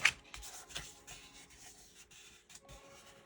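Card stock being folded and creased for a holiday thank-you card: a close, quiet run of papery rubs, scrapes and light taps, irregular and soft, with no talking.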